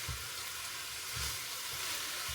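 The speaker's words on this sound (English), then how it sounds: "We got a big old pan of onions and peppers going." Onions and peppers sizzling in a big pan, an even hissing sizzle with a few soft low thumps from stirring, steady and moderately quiet, no voices.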